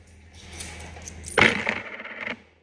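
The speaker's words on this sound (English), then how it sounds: "Somebody dropped a dime." Coins dropping onto a hard surface outside a courthouse, one sharp metallic strike followed by a brief scatter of jingling and rolling, close and clear.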